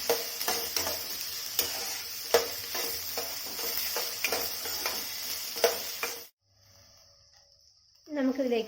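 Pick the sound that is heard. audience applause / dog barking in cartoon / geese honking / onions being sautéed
onions being sautéed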